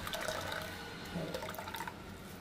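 Fresh coconut milk for solkadhi is strained, giving a close, gurgling watery splash and trickle that rises and falls over a couple of seconds without talk.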